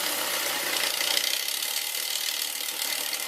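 A sewing machine winding thread onto its bobbin, a steady whirring, rattling mechanical drone with a bright, hissy top that runs evenly throughout at close range, no voices.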